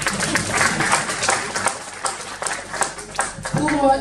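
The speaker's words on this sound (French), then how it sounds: "Pour vous applaudir" An audience at the Trophée Mousseau event applauds as a dense, steady wash of clapping with crowd noise mixed in, moderately loud and continuous throughout.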